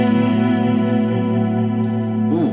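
Clean electric guitar tone through the Archetype Plini X plugin with effects, sustained chiming chords ringing with chorus and echo, loud and alone, with a brief bend near the end.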